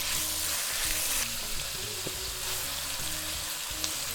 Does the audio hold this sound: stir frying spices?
yes